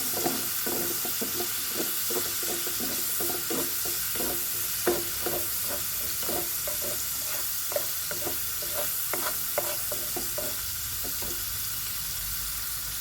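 A spatula stirs fish molee frying in a pan, giving a continuous close sizzle punctuated by regular scraping strokes that continue steadily for about thirteen seconds with no voices.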